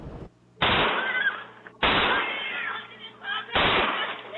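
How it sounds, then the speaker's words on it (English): Three loud gunshots crack out in a surveillance recording, each followed by a lingering echo, spaced irregularly over a few seconds. "but shots still rang out"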